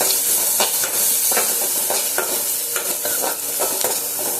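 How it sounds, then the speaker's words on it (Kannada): Onions frying in hot oil with green chillies and garlic for an okra chutney, a loud, close, steady sizzle with rhythmic stirring scrapes roughly every half second; no voices. "ಈರುಳ್ಳಿನ ಕೂಡ ಚೆನ್ನಾಗಿ ಫ್ರೈ ಮಾಡಬೇಕು."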